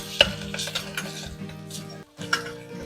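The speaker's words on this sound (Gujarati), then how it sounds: "લસણ અને આદુની થોડી કચાશ દૂર થવા 1 મિનિટ જેટલું સાતળીએ" Ginger, garlic and chili paste sautéing with onions in a pan for pav bhaji, with a spoon stirring and scraping against the metal pan and a soft sizzle underneath, close and steady, with a brief quiet gap near the end.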